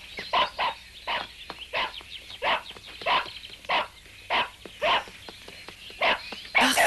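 A dog barks repeatedly in a steady rhythm, about a dozen loud, sharp barks spaced evenly and close by, with nothing else prominent around them.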